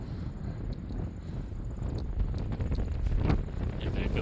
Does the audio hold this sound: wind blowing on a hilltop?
yes